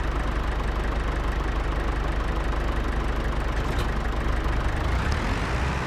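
A tractor engine idling in Farming Simulator 25, a steady low rumbling drone with a faint knocking texture, constant and unbroken throughout.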